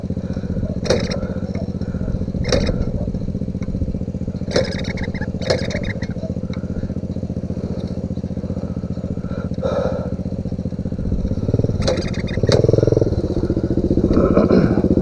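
Pro Tork and Honda CRF mini motorcycles rev and accelerate along a mountain trail, their engines buzzing steadily and close by with repeated sharp throttle bursts and clattering, with a brief voice partway through.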